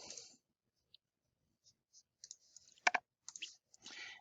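Sparse, soft keyboard clicks and taps entering numbers into a calculator, irregular and close, with quiet gaps between keystrokes.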